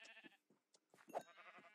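Several short bleats from sheep in modded Minecraft 1.16.3, spaced irregularly over quiet game ambience and growing louder toward the end.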